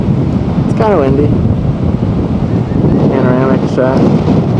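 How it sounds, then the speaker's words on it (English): Strong wind gusting across a coral beach, buffeting the microphone in a constant low rumble with surf beneath; a person speaks briefly over it twice. "It's kind of windy"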